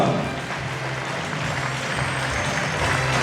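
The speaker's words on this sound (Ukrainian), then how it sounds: "Аплодуємо, аплодуємо, це дуже приємно." An audience applauding at a tribute to labour veterans, a steady, dense wash of clapping that holds at an even level throughout without pause.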